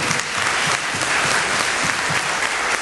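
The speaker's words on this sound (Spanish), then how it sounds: "Hay que aplaudir este nombramiento" Loud, dense audience applause at a panel discussion, continuous clapping from many hands close by with no pause.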